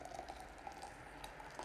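Hot water poured over ground Ethiopia Gedeb coffee for a pour-over, a soft, close, continuous bubbling trickle heard quietly with no talk.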